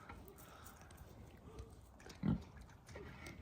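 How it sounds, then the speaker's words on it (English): Pigs on a farm near Flagstaff, Arizona, give a short grunt in the middle of a quiet outdoor stretch, with faint background noise around it. "You want to see the pigs? Look what the pig's doing."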